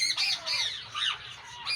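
A parrot gives harsh, rasping squawks, close and fairly loud, in rapid overlapping bursts.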